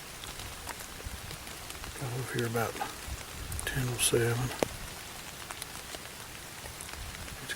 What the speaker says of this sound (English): It's cloudy, it's rainy, 5 to 10 mile per hour winds.